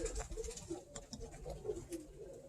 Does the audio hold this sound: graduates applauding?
no